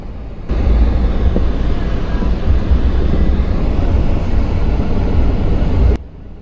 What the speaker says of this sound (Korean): 지금 하늘 보시면 저기 헬기, 되게 뚱뚱한 헬기인데 3대인가 날아가더라고요.